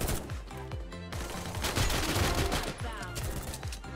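Rapid bursts of video game gunfire crackle in dense, repeated volleys, loud and continuous throughout with overlapping shots and no clear gaps.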